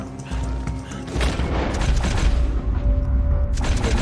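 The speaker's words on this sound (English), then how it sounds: "Oh, they're about to shoot me" Gunfire in a Western-themed video game, heavy booming shots and crashes under a dense layer of game ambience, loud and continuous for a few seconds.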